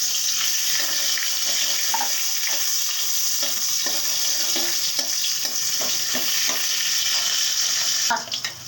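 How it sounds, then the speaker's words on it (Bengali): Chopped onions hit hot oil tempered with kalonji seeds and sizzle loudly and continuously, with scattered stirring clicks against the pan and a brief clatter near the end. "এবার দিয়ে দিচ্ছি কুচিয়ে রাখা পেঁয়াজ।"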